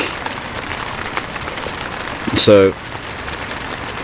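Steady rain falls on a surface outdoors at a fishing spot, a constant soft patter, with a brief louder burst of noise partway through and a single spoken word.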